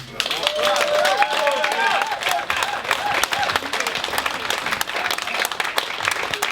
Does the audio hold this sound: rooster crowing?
no